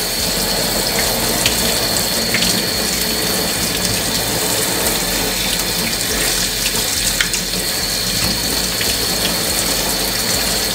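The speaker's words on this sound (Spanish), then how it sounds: "Lo primero que vamos a hacer es lavar jengibre y pelar." Ginger pieces rinsed under a running kitchen tap, a steady hiss of water splashing into a sink with faint clinks and knocks, continuous and fairly loud with no talking.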